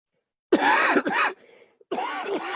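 A loud, harsh cough bursts out close by, followed by a short second hack and a brief quiet pause before another rough burst.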